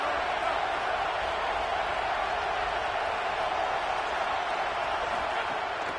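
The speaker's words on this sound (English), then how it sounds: "this crowd trying to help keep them there" Simulated stadium crowd in an American football video game, Texas Tech versus FSU, roars as a dense, steady wall of noise at constant loudness, with no breaks or swells.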